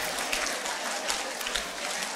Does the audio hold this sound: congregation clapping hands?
yes